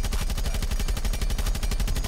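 Automatic weapon firing in the video game Rainbow Six Siege, a rapid, evenly spaced stream of loud, punchy shots close up, running continuously for about two seconds.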